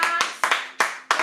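An audience at a rap battle claps in unison, four or five sharp, evenly spaced claps at a quick steady rhythm, close and clear.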